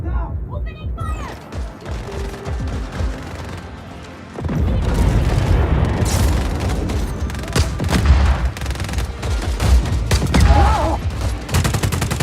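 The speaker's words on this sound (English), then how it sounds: "Trying to pin him down! Opening fire!" Sustained gunfire and explosive booms from the video game Just Cause 4, a dense, loud barrage of rapid shots and heavy impacts that swells after the opening seconds and keeps rattling on without pause.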